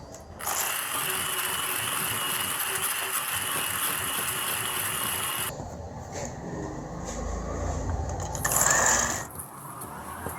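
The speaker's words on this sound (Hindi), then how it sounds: "इस तरह आपने आहिस्ता आहिस्ता करके मैदा ऐड करना है, मशीन को चलाते रहना है।" An electric mixer runs as flour is added to sugar and ghee for nankhatai dough, giving a steady, close mechanical whir with a rattling edge that shifts tone midway and surges briefly near the end, with no talking.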